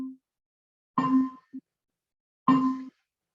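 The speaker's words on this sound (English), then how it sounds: "That's evidenced by the bell" Two bright bell dings ring out in near silence, each short and clear with a quick decay, spaced about a second and a half apart.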